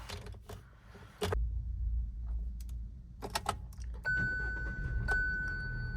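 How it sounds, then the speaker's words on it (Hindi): A Hyundai Grand i10 Nios starts up after a few clicks and key jingles, then its engine settles into a low, steady idle close by, with a faint thin tone joining later. "तो ये हमारी गाड़ी स्टार्ट हो गई है।"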